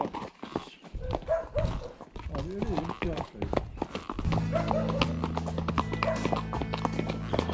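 A mare walks near Piracaia, her hooves clip-clopping in an uneven rhythm close by while people talk over them, then a steady low engine-like drone fills the background.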